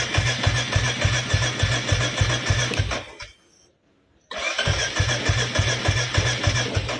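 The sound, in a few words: Royal Enfield Classic 350 motorcycle self-starter cranking, not starting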